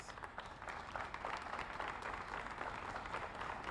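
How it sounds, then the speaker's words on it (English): Crowd applause at an outdoor Pride month kickoff in Hoboken, New Jersey, faint and steady clapping sustained throughout with no voices over it. "A round of applause."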